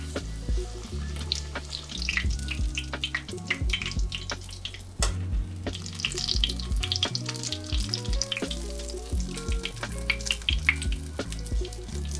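Food deep-fries in oil in a cast iron Staub baby wok, a steady close sizzle and crackle that continues with no break, with light clinks of utensils stirring underneath.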